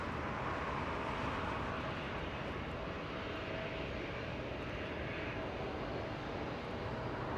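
A SkyWest Embraer E175 regional jet arriving at Los Angeles International Airport after a flight from Sacramento gives a steady, loud, broadband engine roar with a faint whine, continuous and close throughout, with no voices.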